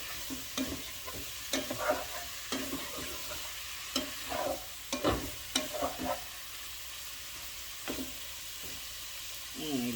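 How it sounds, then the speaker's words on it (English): Shell-on shrimp cook in a pan with Scotch bonnet pepper, scallion, thyme and pimento, giving a steady close sizzle broken by repeated scrapes and clacks of stirring. "you have to cook the shrimp with the shell on"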